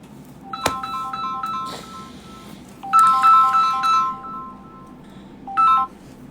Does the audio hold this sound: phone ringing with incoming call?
yes